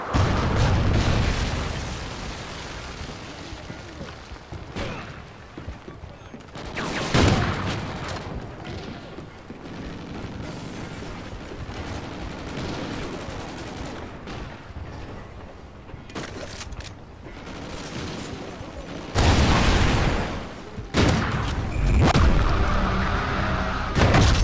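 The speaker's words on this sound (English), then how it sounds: "Friendly Trinity rocket inbound." Trinity rocket strikes in Call of Duty: Ghosts land as several heavy booming blasts, one near the middle and two close together near the end. A dense, noisy battlefield din fills the gaps between them.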